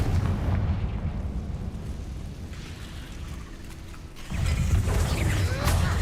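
Rumbling Confringo blast-spell explosions in the Hogwarts Legacy video game, a heavy sustained boom that dips in the middle and then swells again, loud and dense.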